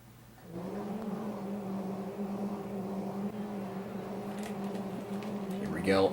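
Sprint car engines in Sprint Cars: Road To Knoxville drone at a steady, buzzing idle, moderately close, before revving up sharply at the end as a voice talks over them.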